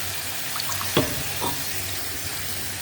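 Kitchen tap water running steadily while a dish is rinsed during cooking, a soft continuous hiss with a couple of brief clinks and splashes, close by and with no talking.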